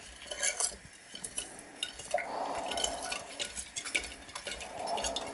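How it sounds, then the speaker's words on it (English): A spoon stirring a gold recovery solution, producing light clinks and ticks against the container with a soft swirling wash of liquid, close and fairly quiet. "so I just stir it up, get the washer to wash the spoon"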